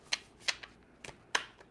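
A deck of cards being shuffled by hand, heard as several quick riffling bursts separated by short pauses, close and fairly quiet with no talking.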